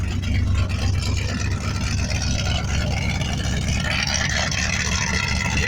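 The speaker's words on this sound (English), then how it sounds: "It's a 455 cubic inch big block Buick engine" A 455 cubic inch big block Buick V8 in a 1968 Skylark, with a leaking header, idles loud and close, a steady deep rumble with no talking over it.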